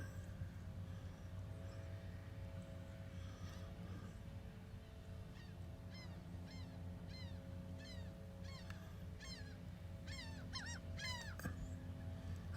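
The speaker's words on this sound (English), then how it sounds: "I love listening to the seagulls." Seagulls calling at a lakeside park, a handful of faint, distant cries rising in short sequences over a steady low outdoor rumble, growing busier toward the end.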